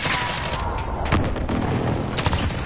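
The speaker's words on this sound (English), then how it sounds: "Enemy precision airstrike. Take cover." Explosions from a precision airstrike in Call of Duty Modern Warfare, several booming blasts and crackling bursts close together over a steady rumbling din of battle.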